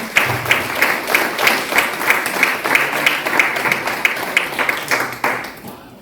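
A church congregation claps in a steady, rhythmic beat, dense and fairly loud, with scattered cheering blended in throughout.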